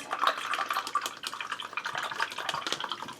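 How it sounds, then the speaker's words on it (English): Paint brushes being rinsed and swished in a small pot of water while painting a ceramic snowman, giving a steady close run of trickling, splashing water with no talk. "I got to clean my brushes."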